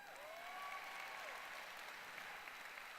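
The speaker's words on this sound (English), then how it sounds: "You can clap for that" A conference audience at a 2017 keynote breaks into applause, a dense, even wash of many hands clapping steadily throughout, heard from a distance and fairly quiet.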